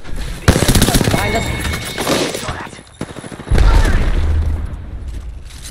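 Bursts of rapid automatic gunfire in an Apex Legends-style battle royale match with the Lifeline character, loud and close, mixed with a game voice line and chatter.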